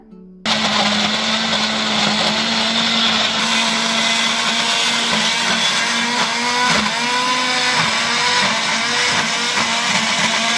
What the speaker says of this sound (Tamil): இப்போ இது எல்லாத்தையும் நான் பிளெண்டரில் போட்டு அரைக்க போகிறேன்.